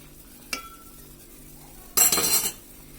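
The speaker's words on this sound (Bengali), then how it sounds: "এখন আবার এটাকে ভালোভাবে নেড়ে দিব।" Spinach soup stirred in a pot: a single metal clink of the spoon against the pot, then a brief burst of scraping and sloshing near the end, otherwise quiet.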